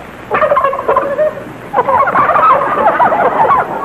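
Loud, close turkeys gobbling in rapid, warbling bursts, one short call followed by a longer rolling gobble.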